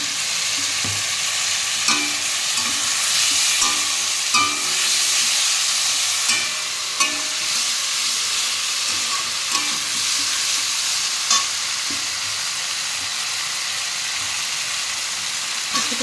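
Ginger paste fries in hot oil in a pan, a continuous loud sizzle broken by regular scraping clicks as a spatula stirs it, close up with no voices.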